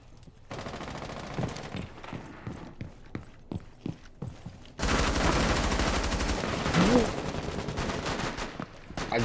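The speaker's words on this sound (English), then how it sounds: "I just put 30 bullets in that guy" Rainbow Six Siege gunfire: spaced single shots in a steady rhythm, then a long loud sustained automatic burst, with a voice talking over it at times.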